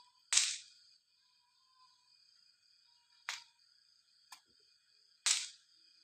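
Small firecrackers set off by a child at Diwali: four sharp, isolated bangs spread over a few seconds, the first and last loudest, with near silence between them.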